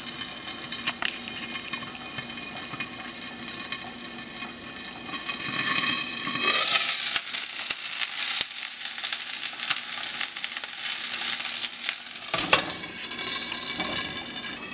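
Steady loud sizzling of salmon frying in a hot pan, with a few clinks and a brief clatter partway through, no talking.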